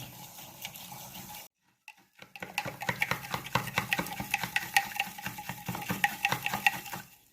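Muddy water mixed with salt is stirred in a container, giving a run of quick, irregular scraping and sloshing clicks after a brief silence, close and moderately quiet.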